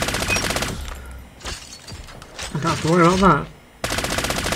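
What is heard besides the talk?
M13 rifle automatic fire in Call of Duty video game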